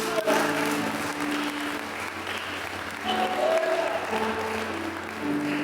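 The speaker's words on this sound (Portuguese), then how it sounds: "Pode aplaudir Jesus." A church congregation claps and cheers continuously at a worship service, the applause loud and sustained with a brief lift midway and a voice faintly heard over it.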